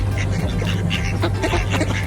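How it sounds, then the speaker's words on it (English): Hundreds of ducks quacking at a lake, a dense overlapping chorus of quacks close and loud, continuous throughout with a low steady hum beneath. "Hundreds of ducks."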